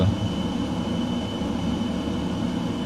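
Steady F-15EX jet engine roar flying low in Microsoft Flight Simulator 2020, a deep constant rumble with a thin high whine running through it, without speech.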